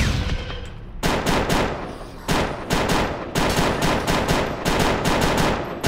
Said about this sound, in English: I'm gonna use the FAL battle rifle.